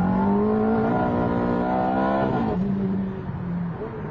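Ferrari F430 engine revving hard on a test drive, its loud, close note climbing steadily in pitch before dropping sharply as a gear changes, then pulling again.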